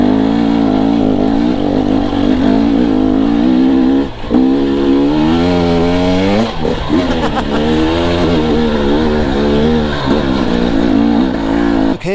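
A GasGas EC300 two-stroke dirt bike climbs a hill in second gear, its engine loud and close, holding a raspy high-revving drone with pitch rising and falling as the throttle changes and short dips between pulls.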